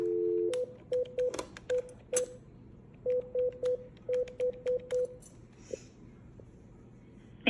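Telephone keypad tones ring out in quick bursts as a number is dialed to the White House comment line, clear and close over a faint line hum, ending with a brief click.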